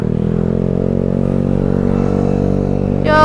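A Yamaha Gear 125 scooter motorcycle rides through city streets near Monas on an afternoon, its engine droning steadily and close, with a brief clatter near the end.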